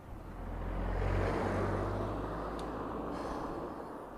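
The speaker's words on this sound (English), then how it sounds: "where's all these poxy cars coming from?" Cars passing by on a road heard from a truck, a soft whooshing swell that rises over the first second and slowly fades, with a low rumble underneath and no speech.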